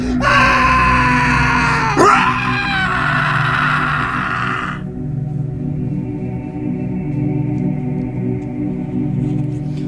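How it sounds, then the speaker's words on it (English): A man screams in a radio drama, a loud anguished harmonic wail rising and breaking over a steady droning background for about five seconds, then cutting off and leaving only the low ambient drone. "I've never heard him scream like that before."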